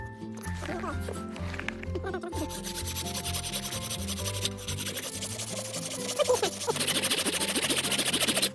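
A hand saw cuts through bone while a fish hook is shaped from it, giving a steady, close rasping sawing that runs throughout and grows somewhat louder and harsher toward the end.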